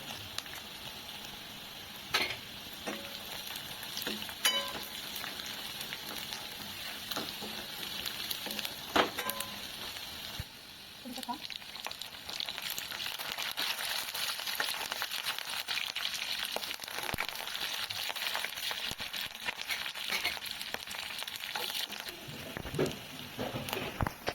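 Dal and long-sliced onions frying in a pan for poha, with a steady soft sizzle and occasional stirring scrapes throughout, no voices.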